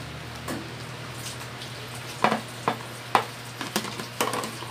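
A slime mixture is stirred in a container, giving a few scattered wet squelches and clicks over a low steady hum, moderately close and without talk.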